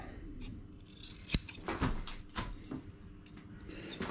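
Scissors cutting the excess cloth along the front of a surfboard during shaping, a few short snips with one sharp close cut, fairly quiet against light room noise.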